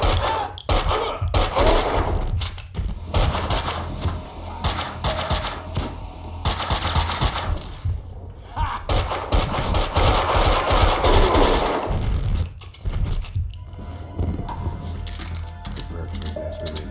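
Gunfire from the video game Max Payne comes in repeated rapid bursts of sharp, loud cracks, separated by short pauses and lingering debris-like clatter, with a constant low rumble underneath.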